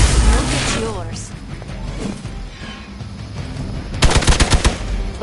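Rapid bursts of gunfire from a Marvel's Midnight Suns battle, with an opening blast and a loud, fast string of shots near the end, alongside shouted character voices.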